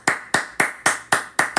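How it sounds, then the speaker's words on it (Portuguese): A presenter claps hands seven times in a steady rhythm, each sharp, close and loud clap ringing out alone with no talk over it. "Merecem os meus aplausos."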